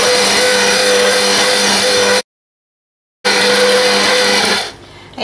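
Stand mixer kneading soft bread roll dough with plain and bread flour, a loud steady motor whir with rhythmic hum, cutting to silence for about a second, then resuming before winding down and stopping.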